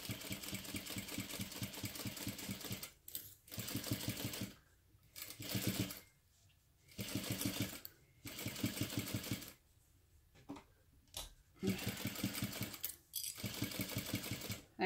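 A sewing machine bastes a pocket onto fabric in several bursts of rapid, even mechanical whirring and clatter, separated by short pauses, close and fairly quiet with no talking.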